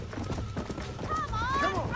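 Galloping horse hooves from Red Dead Redemption on Xbox One S, a rapid rhythmic clip-clop up close, joined by a whinny and game voices talking partway through.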